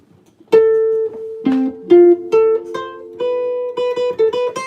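Notes of an arpeggio ring out one after another on a keyboard-like instrument over a held bass line, forming a steady melodic pattern with a sustained low note beneath, loud and close with no talking.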